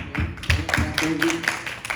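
A comedy club audience claps in sharp, fairly regular strikes about four times per second, with low-level room murmur beneath.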